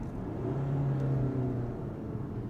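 A Volkswagen Golf GTD diesel engine revs, a steady low rumbling drone with rising and falling tones heard from inside the car, continuous and moderately loud.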